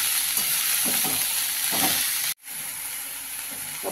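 Amaranth greens stir-fried in a pan give a steady loud sizzle with periodic scraping stirs, cut by a brief silence midway before the frying hiss resumes.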